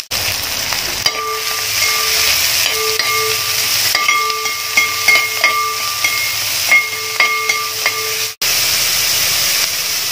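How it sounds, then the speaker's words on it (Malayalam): Hot coconut oil sizzles steadily in a pan while beef fry is prepared, a continuous close hiss with faint clinks and tones scattered through it and no talking. "അതിന് ഞാൻ വെളിച്ചെണ്ണ ആദ്യം ഒഴിച്ചു വെച്ച് അത് എണ്ണ ചൂടായിട്ടുണ്ട്."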